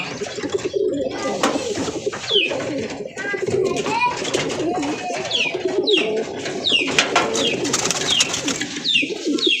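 Pigeons squabble and coo at close range, with a steady busy mix of throaty coos and scuffling over the whole stretch, while faint chirps and a murmur of background voices sit underneath.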